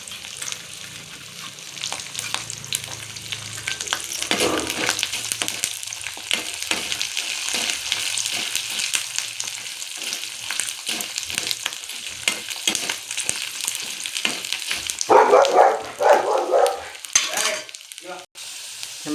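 Garlic frying in hot oil in a pan while making pirandai thuvayal, a steady crackling sizzle throughout with stirring scrapes and a louder burst of spattering near the end, no talk.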